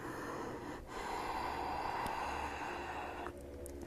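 Steady, audible yoga breathing during a live hands-free flow session, with long airy breaths forming a continuous soft rush at low volume.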